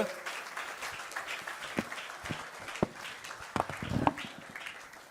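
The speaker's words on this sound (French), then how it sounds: "Si on peut se lever et continuer à applaudir, s'il vous plaît, alors que l'archevêque avance." A standing audience applauds at a gathering as an archbishop walks forward, sustained and somewhat distant, with a few sharper nearby claps and knocks breaking through. Voices murmur under the clapping.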